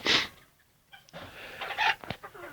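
Young ispenç and ataks roosters and hens cluck near a balcony underside in short bursts, with a loud squawk at the start and a few scattered calls afterward, no voices.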